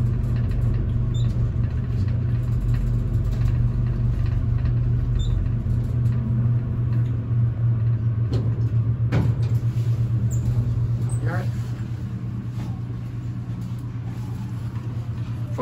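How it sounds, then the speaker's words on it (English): Steady low hum and rumble of a traction elevator with generic modernized equipment at the Grand Rapids Public Museum, Michigan, running continuously with faint clunks and shifts partway through, no talking. "On a traction elevator."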